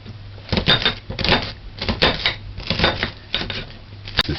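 An onion being diced with a knife on a cutting board for curried conch, heard as a close, loud run of quick, uneven chopping taps in short bursts with brief pauses.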